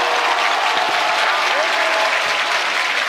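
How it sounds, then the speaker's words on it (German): A crowd at a live event applauds with steady, dense clapping that fills the whole span at full volume, with faint voices mixed into the noise. "gib mal bitte für Let's Hugo einen Applaus"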